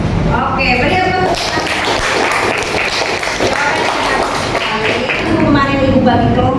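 Indonesian high school students clapping together in a classroom, a dense, steady patter of many hands lasting several seconds, with a teacher's voice speaking at the start and end.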